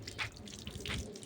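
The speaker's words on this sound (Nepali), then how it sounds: "मेरो छोरो चाहिँ हात खुट्टा धुँदै छिन्" Water runs from a tap as a young boy washes his hands and feet outdoors in a Nepali village, with soft splashes and drips over a steady trickle, close and fairly quiet.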